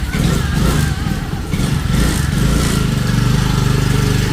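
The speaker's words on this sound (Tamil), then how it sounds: "பைக்கில் போய்கொண்டிருக்கோம்" A motorcycle engine drones loud and close as it is ridden, a continuous rough buzz with slight throttle changes and wind noise throughout.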